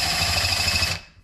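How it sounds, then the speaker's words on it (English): A power drill spinning the shaft of a self-cleaning veg-oil heater whirs at a steady high pitch for about a second, then winds down and stops. "And when I pull the trigger on the drill,"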